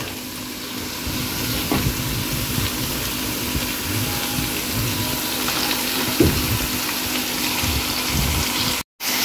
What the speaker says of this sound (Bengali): এখন অ্যাড করে দিচ্ছি কেটে নেওয়া আলু শাক।